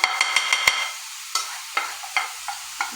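Spices are stirred into a beetroot mixture frying in a pan, a quick run of sharp spoon scrapes and taps followed by slower, spaced strokes over a soft sizzle, close and clear with no talking.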